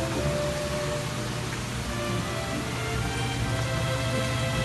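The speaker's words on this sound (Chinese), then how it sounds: "哇，下大雨" Heavy rain pours down in the hill town of Guanziling, a dense, even hiss that fills the whole stretch without a break.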